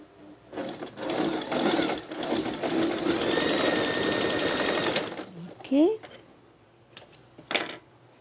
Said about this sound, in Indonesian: Jahit je dia ke belakang.